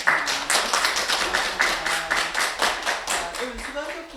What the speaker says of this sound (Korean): 교수님께 다시 한번 박수로 감사합니다